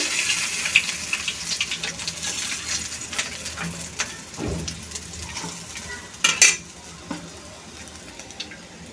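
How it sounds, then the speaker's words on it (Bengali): Small puti fish fry lightly in oil with a soft, steady sizzle, broken by scattered clinks and scrapes of a utensil stirring in the pan and a louder clatter late on. "মাছগুলো ভেজে নিচ্ছি হালকা করে"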